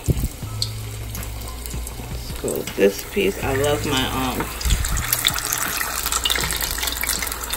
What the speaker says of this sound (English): I'm just gonna pop them into the oil. And if it doesn't sizzle like that, that means the oil ain't ready.